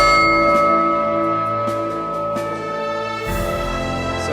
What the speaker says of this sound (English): that sound called the horses to be saddled, called them into the paddock to be saddled